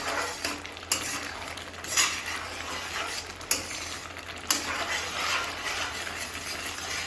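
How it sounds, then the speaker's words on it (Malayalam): A long-handled spatula stirs a thick milk cake mixture in a pan over heat, scraping and clinking against the metal in uneven strokes with a few sharper knocks, close and moderately loud, no talking. "നല്ല കൈ നീളമുള്ള ചട്ടക എടുത്താൽ മതി. എന്നിട്ട് കുറച്ച് ദൂരെ നിന്ന് ഇളക്കുക."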